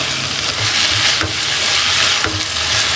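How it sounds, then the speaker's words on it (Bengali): A dish with fresh coriander leaves being stirred in a hot pan, with a loud, steady sizzle of frying throughout and a couple of brief scraping strokes, close up and with no talking. "এটাকে এখন আমি অবরত নেড়ে চেড়ে রান্নাটা কমপ্লিট করে ফেলবো"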